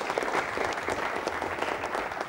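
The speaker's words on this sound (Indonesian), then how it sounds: "Berikan tepuk tangan yang meriah dong buat kita semua" Lively audience applause fills an auditorium at an evening motivational event, dense, even clapping from a large crowd with no talking over it.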